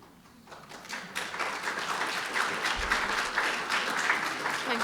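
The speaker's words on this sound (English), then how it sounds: "I'll tell Jim you clapped." An audience at a poetry reading at an award event breaks into sustained applause, rising from quiet to a dense, even wash of clapping that carries on steadily.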